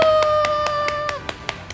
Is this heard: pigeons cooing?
no